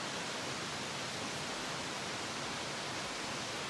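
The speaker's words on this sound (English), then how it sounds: "It's raining super loud here" Heavy rain falls outside in a dense, steady hiss that fills the whole moment without pause or other sounds.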